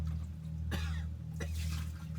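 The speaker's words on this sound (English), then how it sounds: "that coughing is probably related to that memory" Two sharp, harsh coughs, a short one and then a longer one about half a second apart, stand out close by over a steady low electrical hum.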